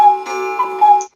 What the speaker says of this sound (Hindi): यह आवाज तो घड़ी से आती है, तो इसका जवाब भी घड़ी यानी वॉच होगा।